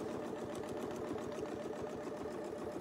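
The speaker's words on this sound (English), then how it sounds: "So I'm just going to sew sort of around the curve." A sewing machine stitches steadily at close range while quilting around a curve with Westalee ruler templates, a fast even motor hum with a rapid needle rhythm and no talk.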